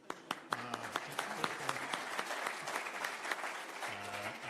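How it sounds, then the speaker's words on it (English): Audience applause at a Republican candidates' forum for Iowa's 4th Congressional District, steady clapping from a seated crowd with a few sharp individual claps standing out, moderately loud and continuous, with a voice briefly audible near the end. "For me, if you want to applaud for me,"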